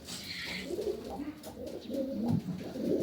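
Two-year-old pigeons kept for sale coo softly in low, rolling repeated calls, fairly close and moderately quiet against faint background noise.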